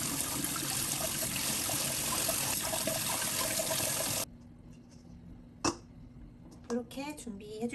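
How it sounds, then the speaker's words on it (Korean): Steady rushing of cold tap water rinsing beef short ribs for several seconds, then it cuts off, followed by a few soft clinks and handling sounds. "찬물에 깨끗하게 씻어줄게요."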